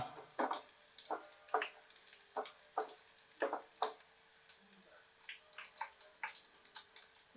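Hair oil with leaves warming over a low flame and being stirred, giving soft irregular clinks and scraping with a faint sizzle, the strokes repeated steadily and close by with no talk.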